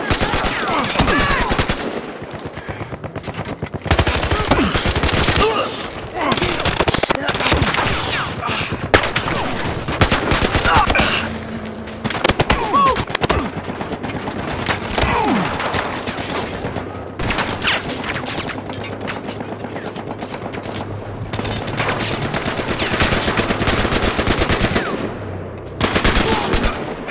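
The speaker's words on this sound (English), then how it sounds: "They're gonna shoot you right here!" Enemy gunfire in the video game Battlefield Hardline: dense, sustained automatic weapon fire with rapid bursts and shots, loud and continuous for nearly the whole stretch, with only brief lulls.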